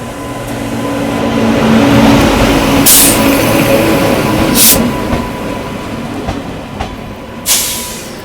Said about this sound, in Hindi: बगल में ये आ गई अभी यशवंतपुर गोरखपुर एक्सप्रेस।